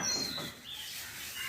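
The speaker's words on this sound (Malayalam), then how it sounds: "അത് മണ്ണാത്തിക്കിളിയുടെ പാട്ട് ആണ് കേൾക്കുന്നത്" An oriental magpie robin sings from a distance, a string of high whistled phrases over a faint outdoor hiss.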